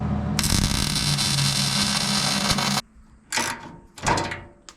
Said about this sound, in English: we'll build up the weld from the inside out